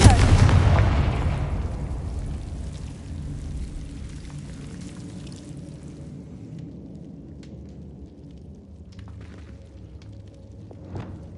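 A Confringo blasting spell explodes in Hogwarts Legacy on PS5. A single loud, close blast opens the moment and then trails into a long rumbling decay with scattered crackles, fading to quieter ambience.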